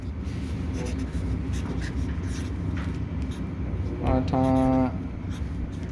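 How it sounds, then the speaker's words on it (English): A pen scratches steadily across paper at a robotics skills competition, writing continuously for several seconds while faint crowd chatter and a brief tonal hum sit in the background. "I'm gonna write down autonomous, round 1."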